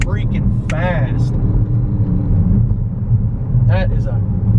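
A 2021 BMW X5M driving hard with its fast-shifting transmission, a steady low engine rumble filling the clip with brief voice sounds over it.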